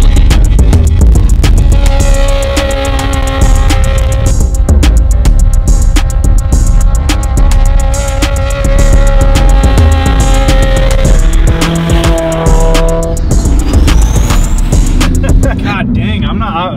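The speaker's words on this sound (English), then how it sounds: "That's a pretty good burnout." A mini truck swapped with a sport-bike engine does a burnout: a loud, high-revving engine screams almost nonstop, with pitch climbing and dropping, tires squealing, and rough broadband roar throughout.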